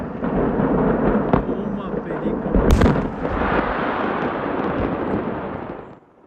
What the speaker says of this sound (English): a warehouse full of fireworks exploded in Yolo County